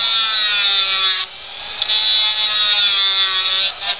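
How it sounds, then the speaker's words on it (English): Dremel rotary tool grinding down a handmade bone guitar nut, a loud close high whine that briefly drops off and resumes, with no talk. "I want to get about halfway down to it with this Dremel"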